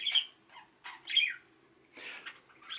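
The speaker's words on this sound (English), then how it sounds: "Birds." Birds chirp in a quiet setting, with clear, high, separate bursts of tweets and short gaps between them, close and fairly loud, with no one speaking.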